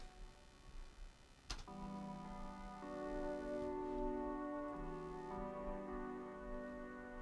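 Synth keys from Native Instruments Massive X on the alternate tone preset, with RC20 wobble, ring out as sustained tonal chords after a sharp click, holding steady and fairly loud on their own with no voices.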